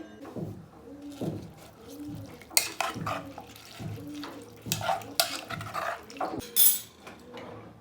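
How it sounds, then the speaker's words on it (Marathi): Metal pressure cooker lid closed and locked onto the pot of spinach dal in a home kitchen, giving a run of clattering metallic clanks and scrapes at close range, with faint background chirps and low domestic noise. "आता मी कुकरचं झाकण बंद करते"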